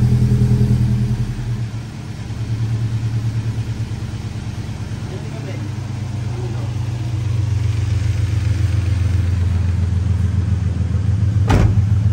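Toyota 86 engine running during a mechanic's inspection, a steady close idle hum with a few mild revs, while people talk over it.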